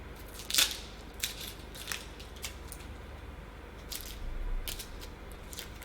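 An onion having its pointy tip cut off and its papery skin peeled, heard as a sharp crisp snip early on, then quiet dry crackles and rustles of skin coming away, close and faint.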